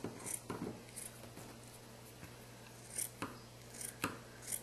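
Several quick snipping cuts from scissors cutting fabric into strips, spaced irregularly, close and fairly faint over a low steady hum.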